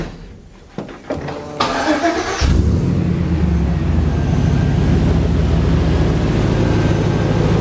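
An LS V8 swapped into a 1956 Chevy fires up after a few cranking clicks and settles into a loud, steady, rumbling idle close by.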